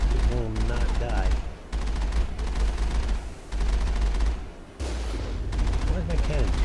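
A cannon in the Mass Effect video game fires in long, loud rapid bursts, like sustained automatic gunfire broken by short pauses, while someone talks over it.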